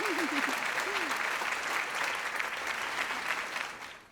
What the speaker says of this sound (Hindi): लड़कियां इसके लिए ताली बजा रही हैं बॉस।